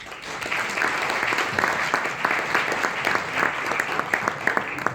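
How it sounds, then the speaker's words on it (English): Sustained applause from a sizable audience for panelists after a panel discussion, steady dense clapping throughout, loud and close. "please have a round of applause for all of the panelists"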